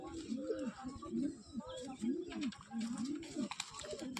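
Pigeons coo in a loft, among them a single black-green bird, with repeated throaty rolling coos close by and overlapping one another in a steady rhythm.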